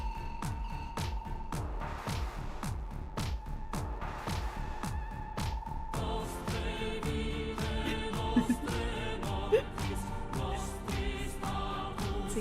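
Music: a steady, sharply pulsing beat under sustained tones, with the texture shifting to a denser, busier arrangement partway through, played loud and continuous with no talking.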